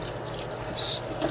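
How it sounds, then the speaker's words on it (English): Tap water runs steadily into a sink, with a brief louder gush in the middle. "get the cold water going"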